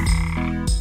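A frog gives two loud, close croaks, each a short resonant rasp, with no other sound around them.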